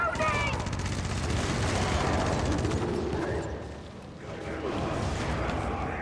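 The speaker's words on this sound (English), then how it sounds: "if you have the machine gun and you're fighting groups of people, just shoot at them" Sustained automatic gunfire from a machine gun in a video game battle rattles loudly and nearly continuously, dense and close, easing briefly before resuming.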